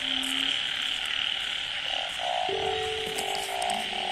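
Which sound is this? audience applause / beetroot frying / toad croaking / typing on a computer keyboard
toad croaking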